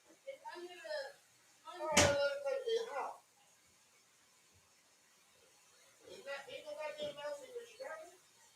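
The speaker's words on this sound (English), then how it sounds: "I had to shut that door." A door is shut with a single sharp slam, loud and close, between stretches of people talking.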